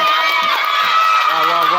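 Children at a home party cheer and shout encouragement, a dense continuous crowd of young voices filling the room loudly for the whole moment.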